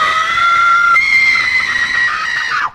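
An actor in a haunted attraction scene lets out one long, piercing, sustained scream at close range, holding its pitch for nearly three seconds before breaking off abruptly.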